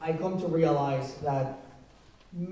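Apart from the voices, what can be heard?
None of the usual background noises is heard.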